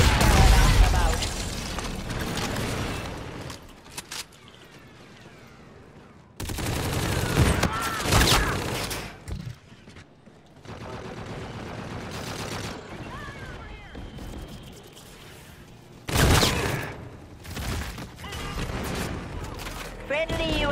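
Sustained automatic fire from an allied turret rattles through a Call of Duty: Infinite Warfare multiplayer match, loud bursts with brief gaps and surges alongside other battlefield gunfire and effects.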